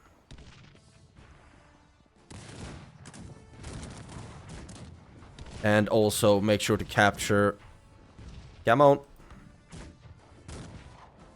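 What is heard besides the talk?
cannon and musket fire in the video game Cossacks 3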